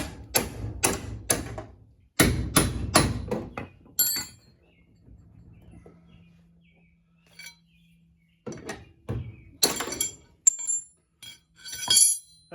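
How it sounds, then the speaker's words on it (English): A hammer strikes a pry tool working on the door of a 1971 Nova during sheet metal and door skin work, giving sharp metallic clinks in rapid bursts, then quiet, then a few more scattered taps. "And you can hit it with a hammer."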